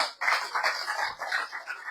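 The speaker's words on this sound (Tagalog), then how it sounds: "Palakpak." Church congregation clapping hands together at a home church visitation, a dense sustained burst of many hands starting sharply and continuing steadily throughout, fairly close and moderately loud, with no talk over it.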